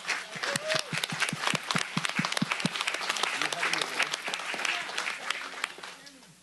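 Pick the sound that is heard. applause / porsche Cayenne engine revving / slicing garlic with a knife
applause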